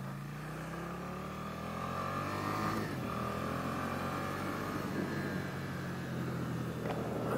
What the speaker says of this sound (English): That's if you can hear the exhaust note, mind you